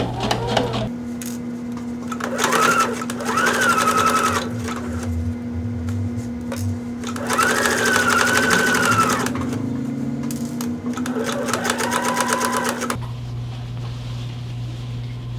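A sewing machine stitching a lapped zipper, running in several close bursts of rapid, steady mechanical whirring separated by short pauses, with a low motor hum throughout.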